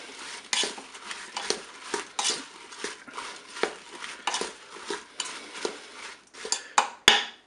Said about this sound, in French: Et on mélange tout ça.